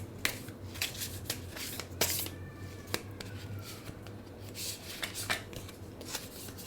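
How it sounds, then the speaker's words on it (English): A deck of tarot-style cards being shuffled and drawn close up: soft riffling and rubbing with crisp snaps and flicks of individual cards, quiet and continuous, with no one speaking. "I feel like we're done, but I also feel like I want to pull one more card."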